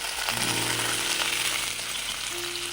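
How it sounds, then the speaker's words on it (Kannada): Curry leaves, cumin, urad dal, chana dal, garlic and dried red chillies fry in hot oil for a drumstick chutney, producing a loud, close, continuous sizzle with crackling pops and no voices. "ಒಂದು 4 ಒಣಮೆಣಸಿನ್ಕಾಯಿ ಇಷ್ಟನ್ನ ಫ್ರೈ ಮಾಡ್ಕೊಳ್ಳೋಣ"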